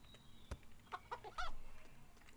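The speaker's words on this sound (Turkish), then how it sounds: "Tavuk." A few short, quiet chicken clucks in quick succession from a farm simulator video game, over a faint background hum, with a soft click near the start.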